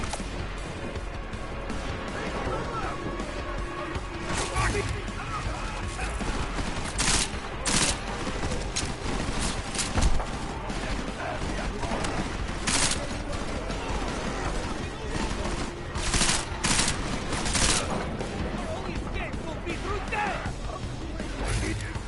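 Gunfire in Deus Ex: Mankind Divided, rapid bursts of shots and impacts cracking through a dense, loud combat din, with voices shouting in between.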